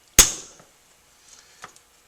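A larger hammer lands one sharp, loud metallic whack on a punch driving the front sight tower pin of an AR-15 rifle, ringing briefly before a couple of faint small taps and clicks follow.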